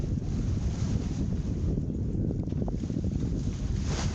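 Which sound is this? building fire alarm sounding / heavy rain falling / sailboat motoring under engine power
sailboat motoring under engine power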